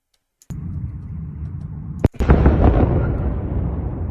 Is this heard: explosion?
yes